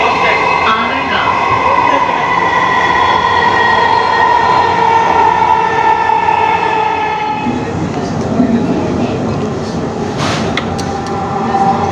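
A Dhaka Metro Rail train runs with a steady, loud interior rumble and tonal motor whine, while a clear voice announcement plays over it.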